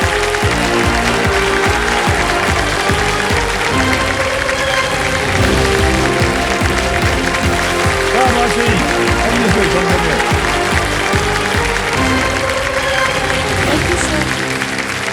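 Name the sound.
studio audience applause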